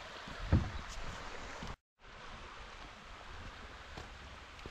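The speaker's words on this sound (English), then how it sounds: "I just love the sound of this wee stream trickling its way past, making its way down to that waterfall." A small mountain stream in the Scottish countryside trickles steadily toward a waterfall, a continuous close broadband wash with a brief dropout partway through and no talking.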